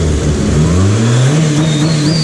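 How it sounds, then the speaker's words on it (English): Turbocharged Eagle Talon engine revs up loudly and close, its pitch climbing steadily with a rising turbo whine layered on top through the short burst, no talking. "Let's hear that turbo spool."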